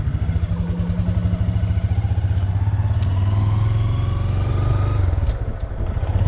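A new Honda Grom motorcycle being ridden, its small single-cylinder engine thrumming loud and close with a steady pulsing exhaust note, shifting pitch as it accelerates, no talk.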